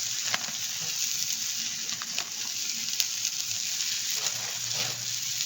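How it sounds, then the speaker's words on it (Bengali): An onion mixture for Jodhpur onion kachori fries in a pan with a steady, close sizzle, broken by a few faint clicks and scrapes of stirring. "সব দিয়ে ভেজে নিচ্ছি কি সুন্দর গন্ধ হয়েছে"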